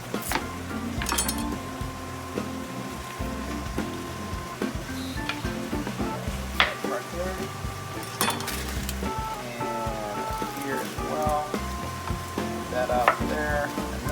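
Vegetables sizzling in a pan as they caramelize while chicken cacciatore is cooked, a steady close frying hiss with clinks and stirring scrapes of a utensil throughout, and no talk.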